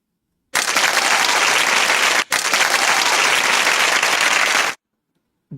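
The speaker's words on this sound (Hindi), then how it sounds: "ढेर सारी तालियां।" A loud, dense burst of crowd applause lasting about four seconds, with a momentary dip partway through, then a sudden stop into silence.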